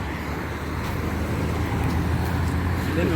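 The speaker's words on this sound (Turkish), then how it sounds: "Araba geldi." A car passes on a road beside a motorcycle practice session, a steady broadband whoosh of tire and engine noise that rises slightly toward the end, fairly close, with no clear talking.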